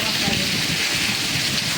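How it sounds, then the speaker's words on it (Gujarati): Steady, dense rain falls throughout, a continuous broadband hiss of drops on surfaces with no breaks, fairly loud and close, with no other distinct sounds standing out. "મિત્રો જો આખા દિવસનો વરસાદ ચાલુ રહેશે."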